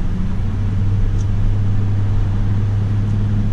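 Steady low engine rumble with a constant drone from a Toyota Tundra CrewMax pickup driving in snow, tires spinning, no distinct tire whine standing out; the vehicle runs continuously throughout.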